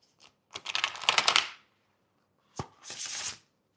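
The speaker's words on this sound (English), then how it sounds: "I'm going to give the deck a bit of a shuffle, Crimson." Two quick bursts of riffled playing cards, a crisp fluttering rush, then a pause and another shuffle.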